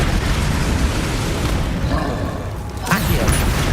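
The Flipendo spell cast in the video game Hogwarts Legacy, a burst and whoosh near the end rising out of a thick, constant roar of game effects, loud and close.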